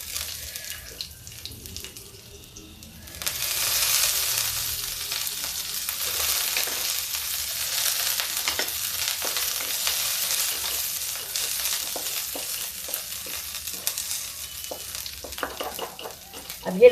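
A steady sizzle of cumin and garlic frying in hot oil starts suddenly and continues, with occasional stirring clinks and crackles.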